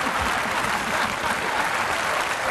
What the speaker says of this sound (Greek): εμένα χειροκροτάνε.